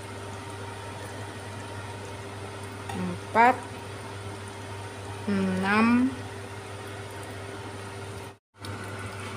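Steady sizzling of spices frying in a pan for chicken rendang, with a voice speaking over it and a brief clatter of stirring.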